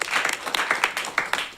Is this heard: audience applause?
yes